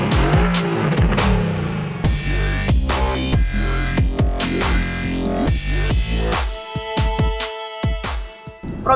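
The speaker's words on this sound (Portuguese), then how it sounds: "Agora vamos levar você para dar uma volta com a gente nos esportivos da AMG." Mercedes-AMG sports cars on the Velocittà race circuit in São Paulo state, engines roaring loud and close as they accelerate and shift gears, with tires squealing through corners and revs rising and falling throughout.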